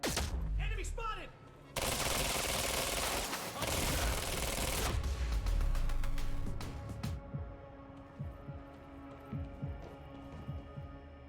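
Gunfire and impacts in the video game Quantum Break roar as a dense, loud burst of shots and debris that later trails into sparse ringing clicks and fading resonant tones, with no voices.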